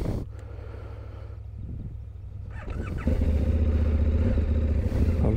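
Motorcycle with a clutch problem on a camping ride along the Wild Atlantic Way, its engine idling with a low throb and then revving up louder and holding steady, close to the microphone.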